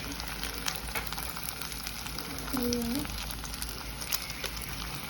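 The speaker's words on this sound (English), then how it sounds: "Right now I have my egg in. I'm using 1 egg. And I'm gonna make it sunny side up." Constant crackling sizzle of one egg frying sunny side up in a hot pan. It is close and steady, with a brief low hum partway through.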